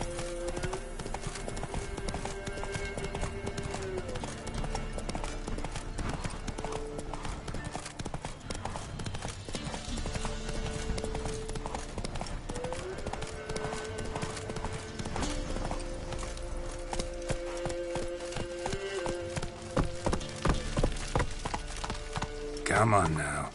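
The horse Roach galloping in The Witcher 3, hooves clip-clopping in a rapid steady rhythm throughout, with game music and occasional voices over the hoofbeats.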